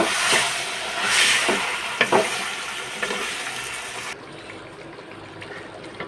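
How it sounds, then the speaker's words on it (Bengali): Meat stirred and frying in a pan, a loud steady sizzle with scraping stir strokes at intervals, the sizzle dropping to a quieter hiss near the end. "এই যে দেখেন মাংসটা দিয়ে দিলাম। এখন নেড়ে চেড়ে মিশিয়ে নিব।"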